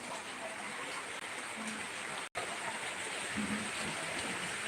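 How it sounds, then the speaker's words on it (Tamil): Heavy rain falling in a village, a constant broad rushing wash of water, near and steady, with a brief dropout midway and faint murmur beneath. "சரியான மழை பின்னி எடுக்குது"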